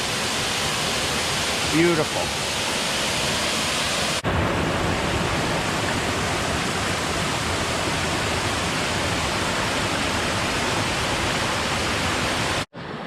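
Roaring waterfalls at Ricketts Glen fill the air with a steady, loud broadband rush of falling water, continuous throughout, with a brief spoken word early on.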